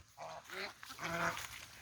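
Ducks and geese on a farm give several honking and quacking calls in quick succession at moderate distance.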